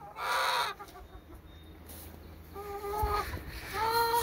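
Red hens clucking and squawking in a noisy flock, bursts of close, repeated calls with a rooster-like cry among them and no talk.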